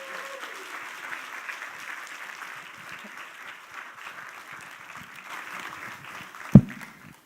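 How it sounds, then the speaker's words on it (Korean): A church congregation at a Sunday evening worship service claps to welcome a visiting professor as guest speaker. The steady applause is moderate and continuous, with a sharp thump near the end. "박수로 우리 환영하겠습니다"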